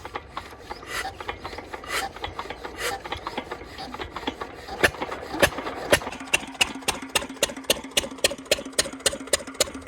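A farm water pump engine runs after being fuelled and started. It settles into a steady, rapid knocking beat that grows louder and more even in the second half, with no voices over it.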